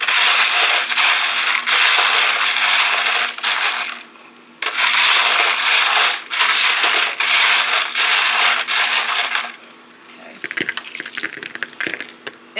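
Small metal charms clatter and jingle in bursts, shaken and stirred before being cast, with brief pauses and a final scattering of light clinks.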